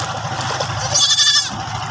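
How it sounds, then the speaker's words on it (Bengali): A goat gives one short, wavering bleat while being bathed with shampoo in river water on a hot day, heard over low background noise. "এই দেখেন ছাগল শ্যাম্পু দিয়ে ধোয়ায়"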